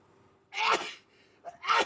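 Two loud, close sneezes, one after another, with a brief quiet pause between them.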